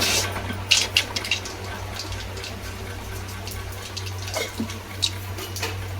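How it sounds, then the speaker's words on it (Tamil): Mustard seeds crackle and splutter in hot oil in a pan while making a Kerala-style fish curry, a steady low hiss under scattered sharp pops, close and moderately loud with no talking. "கடுகு போட்டு கடுகு நல்லா பொரிஞ்சதும்"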